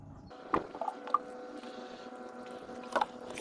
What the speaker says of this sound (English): Let's give them a water.